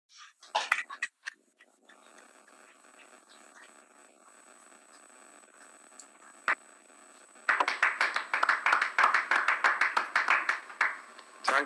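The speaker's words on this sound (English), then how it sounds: "je vous propose de nouveau d'applaudir tous les partenaires de cette reconnaissance" An audience at a UNESCO Biosphere Reserves designation ceremony breaks into dense applause partway through, after a few scattered claps and a quiet hall, and keeps clapping steadily to the end.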